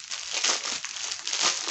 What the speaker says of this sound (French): je vais déballer les diamants que nous puissions voir un petit peu ce que ça donne